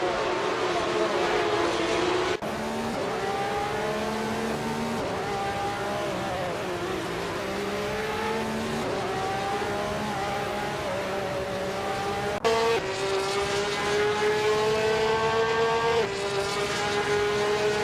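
Race cars in a racing video game roar continuously as they drive and overtake, with layered engine tones rising and shifting in pitch and two abrupt cuts in the steady loud drone.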